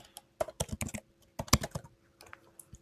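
Typing on a computer keyboard while entering a website address, with a quick run of close, crisp key clicks in irregular clusters and brief gaps between them.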